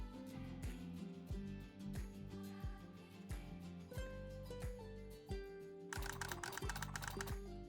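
Computer keyboard typing heard up close: a quick, irregular run of crisp clicks and clacks that ends in a denser, brighter burst of keystrokes near the end, with no voices.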